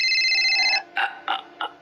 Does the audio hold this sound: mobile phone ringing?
yes